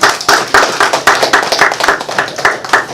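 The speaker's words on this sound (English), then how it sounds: "Give Almighty Yah a hand clap praise." A church congregation claps together in a hand clap praise, giving sharp, loud, near claps in a steady rhythm of roughly three to four per second with no voices over them.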